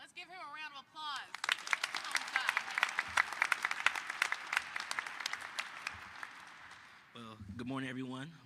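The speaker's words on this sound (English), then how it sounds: "Let's give him a round of applause." Audience applause at an NFL Draft countdown event in Detroit, a loud sustained burst of clapping lasting several seconds, with a speaker's voice just before and after it.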